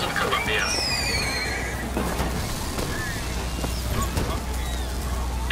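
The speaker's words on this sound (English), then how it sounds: "Equus Mechanical, the automatic stallion, the horse of the future, today!" A mechanical horse in Bioshock Infinite lets out a high, wavering whinny at the start, followed by softer neighs and clopping over a steady low hum, with a voice talking throughout.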